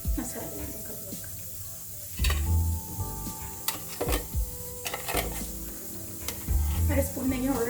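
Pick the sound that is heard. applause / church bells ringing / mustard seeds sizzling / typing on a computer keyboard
mustard seeds sizzling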